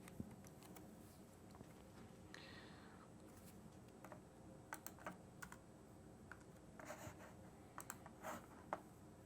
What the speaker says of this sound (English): we can simply just type in Landsat